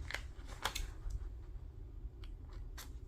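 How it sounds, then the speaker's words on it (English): Scissors trimming paper envelopes for a flip-flop journal base, giving several short crisp snips and clicks scattered over a low, steady room rumble. "I'm literally just kind of trimming it up."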